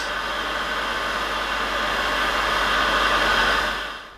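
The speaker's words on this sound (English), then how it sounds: "a heat gun" Heat gun blowing a steady, loud broadband hiss close by while drying drywall jointing compound textured onto a sycamore bowl, holding constant for about four seconds before tapering off at the end.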